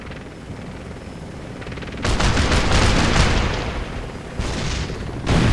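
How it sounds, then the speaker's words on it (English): An enemy attack helicopter in Operation Flashpoint gives a steady rotor drone, joined by sudden loud bursts of gunfire and booms that come in waves, with no talk. "enemy attack helo entering your AO."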